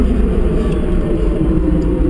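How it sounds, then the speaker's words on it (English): Tesla electric car driving with almost no motor sound, just a steady low rumble of tires on the road heard from inside the cabin, continuous and fairly loud. "You're just hearing the tires, really."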